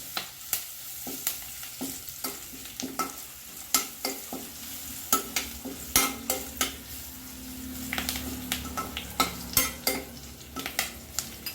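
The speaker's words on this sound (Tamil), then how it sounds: "நல்லா பூண்டு கருவேப்பிலையெல்லாம் நல்லா முருகலாகிற வரைக்கும் நல்லா வறுத்துக்கணும்." Garlic and curry leaves fry in hot oil for taro root fry, a steady sizzle broken by sharp, frequent scrapes and clinks of a spatula stirring against the pan, close and fairly loud with no talking.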